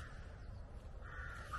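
Crows caw faintly in the open at the Hill of Tara in Ireland, a couple of harsh calls rising from a quiet outdoor background.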